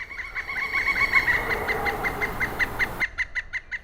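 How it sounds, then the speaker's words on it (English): A pileated woodpecker's loud, repeated high calls in a quick, even series, ringing out clearly against a quiet foggy park background. "I could keep hearing the woodpecker"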